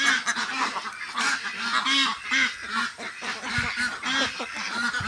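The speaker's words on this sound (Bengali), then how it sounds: "কি সুন্দর, কত বড় বড় হাঁস" A flock of large domestic ducks kept for eggs calls close by, loud repeated honking quacks overlapping in a busy, continuous chorus with no talking.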